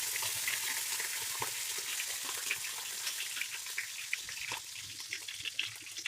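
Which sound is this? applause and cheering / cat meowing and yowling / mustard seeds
mustard seeds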